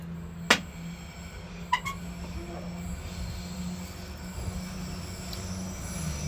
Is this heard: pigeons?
no